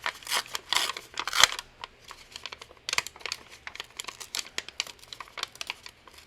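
Paper being torn out of a journal page in a series of short, sharp ripping and crinkling bursts, close and fairly quiet, with brief pauses between pulls.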